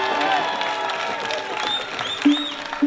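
A festival crowd at an outdoor fairgrounds music show applauds and cheers for a bluegrass band's guest musician, a short burst of clapping swelling near the end with some voices mixed in.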